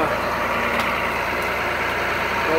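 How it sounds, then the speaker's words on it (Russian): A tractor engine runs steadily at close range, a loud continuous diesel rumble with a heavy-vehicle drone that holds unchanged from start to finish. "Вот, приехал наш трактор."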